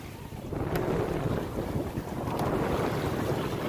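Steady wind rushing over the microphone aboard a sailboat out on Biscayne Bay, loud and constant, with the wash of water against the hull beneath and no talking.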